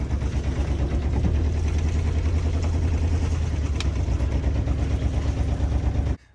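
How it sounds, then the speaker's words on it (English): A sailboat's motor runs steadily after being started, a close, even low-pitched engine drone with a fast regular throb, cutting off abruptly near the end. "I also got the motor fired up."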